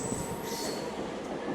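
Secunderabad–Siddipet DEMU train running at speed near Medchal station, a steady, loud rumble of wheels on rail with high squealing tones, continuous and without pause.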